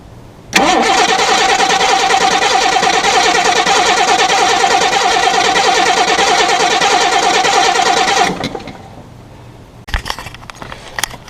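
A car engine cranks briefly, then starts and runs at a loud, steady, high idle for several seconds before being shut off, followed by quiet clicks and small knocks.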